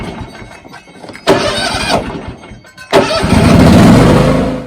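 An air-cooled John Deere X530 lawn tractor engine cranks briefly, then catches on choke and settles into a loud, steady run close by, with no talk.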